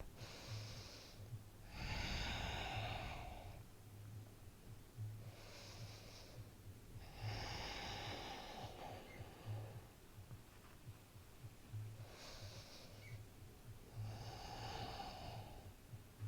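Slow, deep breathing held in a yoga forward fold, about three long breath cycles, each inhale and exhale a soft airy rush close to the microphone, with a faint low hum underneath and no talk.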